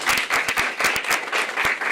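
Audience applause after a professor is introduced at a climate resilience event: a steady, dense roar of many hands clapping throughout, loud and close, with no talking.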